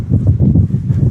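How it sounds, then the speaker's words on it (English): Wind buffets the microphone at a cricket ground in Tallinn, Estonia in low, rumbling gusts, a loud, pulsing blustery roar close up with no voices. "can hear the wind sometimes just making itself known"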